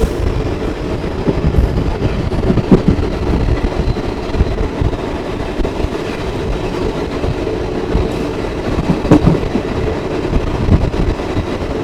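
Passenger train running on rails near Shoranur, a steady close rumble with wheel clatter and occasional clicks from the rail joints, continuous throughout with no talk.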